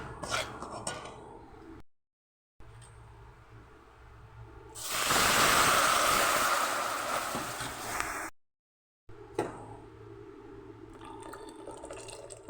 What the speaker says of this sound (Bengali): এবার দুধের মিশ্রণটা অল্প অল্প করে আমি এতে ঢেলে দেব।